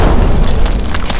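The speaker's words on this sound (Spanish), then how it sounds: "Se da a las 15:23 la explosión inicial." A loud, sustained deep boom with broadband rumble filling the whole moment, the initial explosion of the Chavín de Huántar hostage rescue operation, rolling on without pause.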